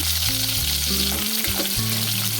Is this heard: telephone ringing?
no